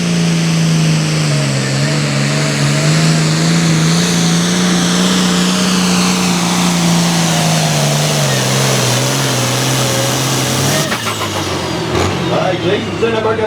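A hot farm tractor with a 466 cubic inch turbo diesel engine roars steadily at a pull event, its loud drone holding for several seconds before shifting near the end, with an announcer's voice over it.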